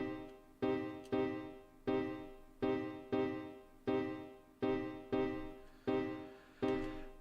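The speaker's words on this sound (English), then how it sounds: "Let's listen to this in its current state, just the piano soloed." Dry, soloed piano in a Cubase session with no reverb added, struck in repeated chords roughly every 0.6 seconds, each decaying cleanly before the next, close and steady with no talk.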